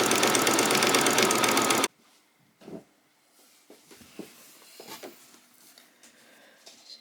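A sewing machine runs steadily and loudly for about two seconds while back-stitching a doll's peasant top, then stops, leaving faint handling clicks and rustles.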